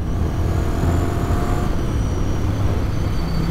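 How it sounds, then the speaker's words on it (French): A 1994 Ducati 900 Supersport motorcycle engine runs under gentle throttle, a steady close drone with a faint thin whistle of air rushing into its carburetors riding above it, and no voices. "On a un espèce de sifflement, on a l'impression d'avoir un compresseur qui se met en route"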